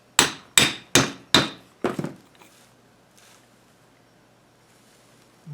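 A hammer taps five times in quick succession on a steering pump retainer clip for an Exmark/Toro mower, sharp and close, the last blow softer, followed by quiet.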